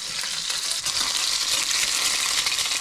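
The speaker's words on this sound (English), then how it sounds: "crack it into the pan and fry it up" An egg frying in hot oil in a pan for pad krapow, a loud, dense, steady sizzle with crackling spatters that continues without a break and has no talking over it.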